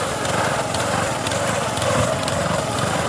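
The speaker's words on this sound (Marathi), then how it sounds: "आपण गहू कापण्यासाठी एक हे मशीन आणलेली आहे. या मशीनीने गहू बरोबर कापून बाजूला पडतो" A wheat-cutting reaper machine works through a field of wheat, a steady rattling, buzzing drone with fast mechanical clatter running continuously and fairly close, with no clear voices.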